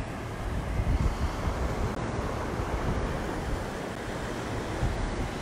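Surf breaking steadily on a beach lined with sea turtle nests, a continuous broadband wash of waves mixed with wind buffeting the microphone, fairly loud and unbroken throughout.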